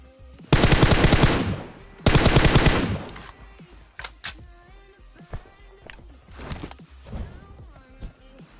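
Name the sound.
M4 rifle gunfire in a video game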